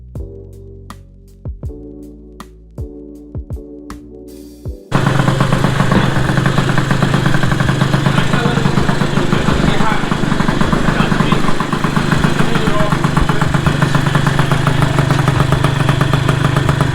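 An Eton scooter engine fitted with a 70cc big bore kit: a few sharp clicks and sputters come first, then the small engine catches and runs steadily with a loud, buzzy, clattering idle that continues to the end.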